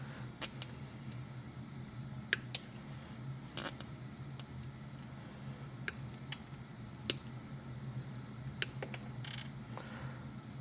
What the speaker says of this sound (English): I like to use flush cuts anytime I'm working with zip ties